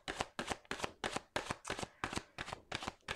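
Oracle cards are shuffled for a tarot reading, with about nine crisp riffling bursts repeating in a steady rhythm, close and moderately quiet, and no voices.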